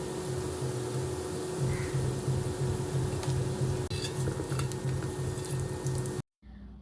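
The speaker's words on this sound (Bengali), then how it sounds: "আবার একটু ভেজে নিব যেন মশলাগুলো সিদ্ধ করা আলুর সাথে ভালোভাবে মিশে যায়" Spices and chili powder frying with boiled potatoes in a pan for a soybean curry, a steady close sizzle with occasional stirring scrapes, then a brief dropout near the end.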